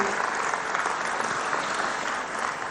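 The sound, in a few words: applause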